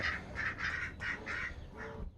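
Ducks inside a chicken coop give a run of about six loud, rhythmic honking quacks in quick succession, close by with no talk over them.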